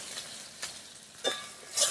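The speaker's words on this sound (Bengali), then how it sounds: "টমেটো কুচি দিয়েও কিন্তু আরেকটু নাড়াচাড়া দিতে থাকবো।" Chopped tomato added to frying garlic is stirred in a pan for a cabbage dish, with a few soft scraping strokes and a light, faint sizzle underneath.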